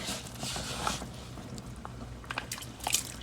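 Washed Haitian-style cornmeal being stirred in a pot with water, a soft, gritty sloshing and scraping that comes in uneven bursts, fairly quiet and close, with no talking.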